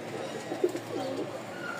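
A young pigeon gives a few soft, low coos, quiet and close, against a faint steady background hum.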